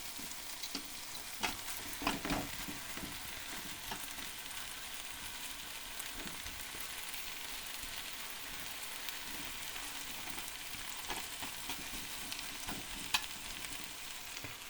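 Boiled pasta tossed into a pan of fried ingredients, giving a faint, steady sizzle with soft scattered scrapes and clicks as it is stirred in.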